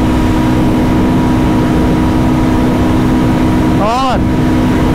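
A Royal Enfield Guerrilla 450 motorcycle engine pulls in sixth gear during a drag race, a loud, constant mechanical drone with a brief sweeping whine near the end.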